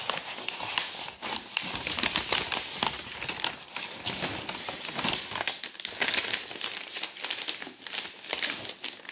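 Continuous crinkling and rustling of paper wrapping, dense and close, with small crackles and taps throughout and no speech.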